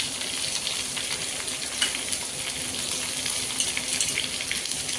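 Chopped raw mango for pickle is mixed with salt and Kashmiri red chili powder, giving a continuous close wet, hissing churn with faint irregular scrapes and no voices.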